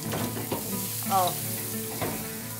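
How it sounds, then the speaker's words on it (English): Potato and Jerusalem artichoke pancakes crisping in plenty of butter, with a continuous close sizzle and a few soft knocks or scrapes from a utensil in the pan. "And then you just fry them in butter, plenty of butter, so they become nice and crisp"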